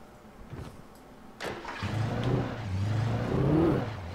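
A vehicle engine in the video game Alan Wake cranks over after a short pause, then settles into a steady, moderately loud running drone that rises slightly in pitch toward the end.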